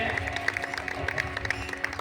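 Applause at a Gujarati wedding ceremony: a crowd claps steadily and moderately loud over a background of tonal music, with scattered individual claps standing out.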